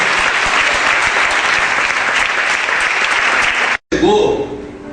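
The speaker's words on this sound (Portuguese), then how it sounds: "Você pode aplaudir o Senhor em nome de Jesus" A church congregation applauds during a sermon, loud sustained clapping filling the space without a break, cutting off abruptly near the end before a short burst of voice and room noise.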